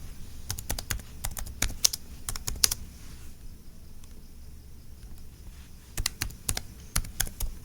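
Keys clatter on a computer keyboard as a city name is entered, in quick bursts of sharp clicks, a quieter pause mid-way, then another run of close typing.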